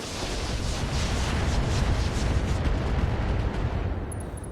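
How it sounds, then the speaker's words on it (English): Sustained barrage of weapons fire from RogueTech, AX rounds pounding a Catapult mech, a dense rumbling roar of overlapping blasts with steady loudness throughout and no talk. "we will fire on the catapult with the AX rounds"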